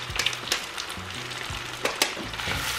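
Sliced zucchini sizzles in a pan on the stove as they are stirred, with steady frying hiss broken by a few sharp scraping and clinking strokes of the utensil, close and fairly loud.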